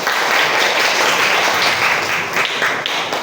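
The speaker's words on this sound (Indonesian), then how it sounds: "tepuk tangan buat kelompok kami" A classroom audience applauds a group of students who have just finished presenting, a dense, even burst of clapping from many hands that carries on throughout.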